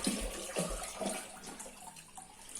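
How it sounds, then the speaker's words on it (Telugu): Water is poured into a washed clay pot, a soft, steady splashing and gurgling heard close and faint, with no talk. "ఇంకా బాన కడిగేసి ఇదిగోండి వాటర్ పోస్తున్నాను"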